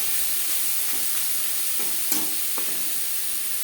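Carrot and cabbage are stirred with spices in a pan over medium flame. A steady, close sizzle runs throughout, with a few soft scraping stirs and no talking.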